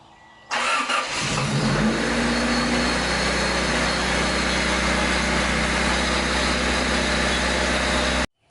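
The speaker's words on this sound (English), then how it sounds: "It's got a bit of a bouncing idle." A Honda Civic with a swapped D16 engine cranks and catches, then settles into a rough, slightly bouncing idle that stays loud and close for several seconds before cutting off.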